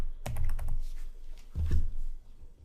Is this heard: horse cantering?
no